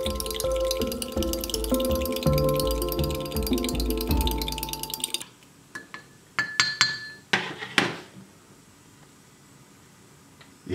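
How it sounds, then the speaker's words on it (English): A spoon stirs a mixed berry drink from an Australian Defence Force CR1M ration in a cup, giving a run of bright clinks and taps against the cup after a stretch of steady noise, close and clear. "Let's give it a nice stir."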